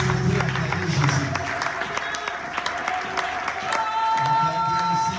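A church congregation cheers and applauds together, a steady mass of clapping and voices filling the space, with a speaking voice over the crowd throughout.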